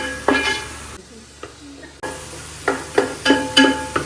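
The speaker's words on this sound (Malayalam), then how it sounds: "നന്നായി വഴറ്റി പച്ചമണം മാറണം," Spices with ginger, garlic and shallot paste stirred in a pan for Palakkad-style biriyani, a soft sizzle under repeated scraping strokes of a spoon, with a brief quieter pause midway.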